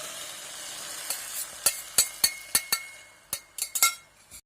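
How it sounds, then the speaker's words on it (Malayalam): Omelette egg mixture sizzles in a pan while a utensil stirs it, with a series of sharp taps and scrapes against the pan over a soft frying hiss. "നമുക്കിതൊന്ന് ഇളക്കി കൊടുക്കാം"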